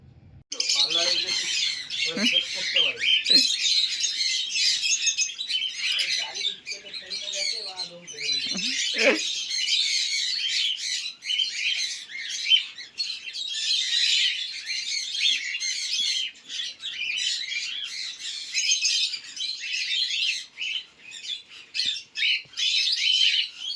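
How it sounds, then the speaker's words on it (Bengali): Caged birds being collected from a house, a dense, continuous mass of shrill chirps and harsh squawks up close, with a few low human voices early on. "এই পাখিগুলো নেওয়া হয়ে গেছে"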